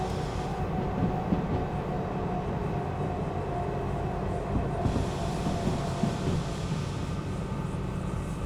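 A long freight train rolls along rails in the railway game Derail Valley, a continuous low rumble with rattling wheel and car noise, steady and fairly loud, with no speech.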